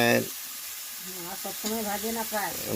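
Sattu, roasted gram flour, fries in a pan with a soft, steady hissing sizzle, while a person talks over it throughout.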